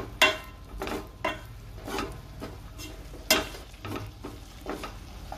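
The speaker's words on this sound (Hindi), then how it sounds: "सारे मसालों को हम सब्जी में ऐड कर लेंगे और मसालों को अच्छे से भून लेंगे।" Spices roasting with stuffed tinda in a vegetable curry crackle quietly, broken by several distinct scraping stir strokes at uneven intervals, close and unaccompanied by voices.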